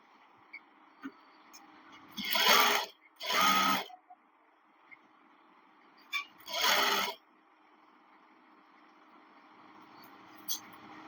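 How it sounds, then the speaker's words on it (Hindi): A sewing machine stitches the hem of a loose-fit pant in three short, fairly close whirring bursts, two back-to-back and one after a pause, separated by quiet handling clicks. "अब ये वाली सिलाई लगाएंगे ऐसे पकड़ के, ऐसे गोलाई में"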